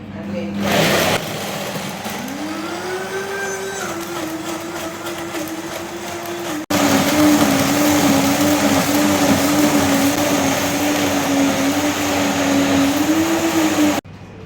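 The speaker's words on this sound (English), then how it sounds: "you want to turn your blender on the lowest" Blender whirring on its lowest speed through raw vegan marinara sauce, a steady motor whine that shifts pitch slightly, sustained and loud for the whole stretch, with a voice over it at times.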